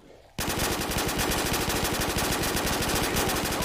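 Rapid automatic gunfire in a zombie shooter video game, a loud continuous stream of evenly spaced shots that starts abruptly and rattles on without pause.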